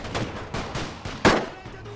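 Scattered gunfire from the World War I strategy game The Great War, several sharp shots at irregular intervals over a steady battlefield bed, with one louder crack near the end.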